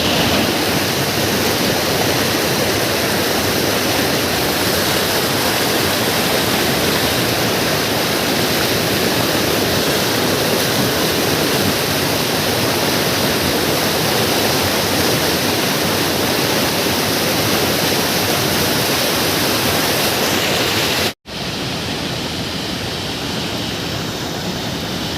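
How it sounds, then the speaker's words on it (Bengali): A strong water current rushes through a single open gate in a steady, loud, broadband roar that continues unbroken, with a brief dropout near the end before the rushing resumes. "এই যে শুধুমাত্র একটা গেট খোলা, তাতে জলের স্রোত দেখো।"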